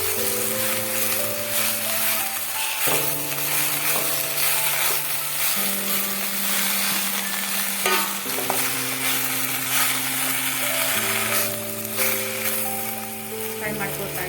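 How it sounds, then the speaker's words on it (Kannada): Chopped brahmi leaves fry in a pan with a steady, close sizzle and occasional stirring scrapes, running continuously under sustained musical tones. "ಇವಾಗ ಸ್ವಲ್ಪ ಫ್ರೈ ಮಾಡ್ತೀನಿ."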